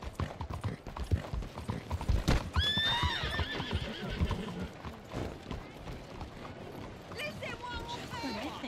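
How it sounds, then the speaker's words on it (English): A horse whinnies and neighs loudly with hoofbeats clip-clopping in Red Dead Redemption 2, the calls rising and falling twice over steady galloping and other game sounds. "I didn't mean to hit you, my horse."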